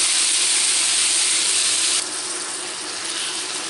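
Lardons sizzling in a pan, a steady close hiss of frying fat that drops slightly in level partway through, with no talk.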